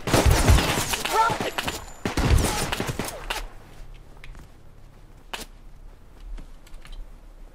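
Rapid pistol shots from an M9 in the survival game Rust, a tight burst of sharp cracks up front, then a thinner scattering of distant pops over low rumble.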